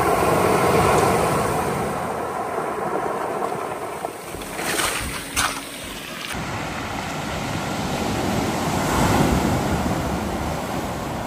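Ocean surf rolls and washes steadily on a foggy Vancouver Island beach as the tide comes in, a loud broadband roar with swells of intensity and wind buffeting the microphone.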